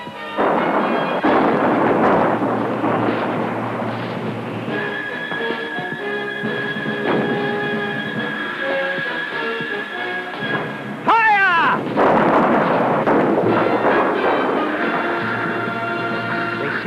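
Cannon artillery fire in a stormy Civil War scene, heavy rumbling booms at the start and again near the end over a long, dense roar, with music and voices in between.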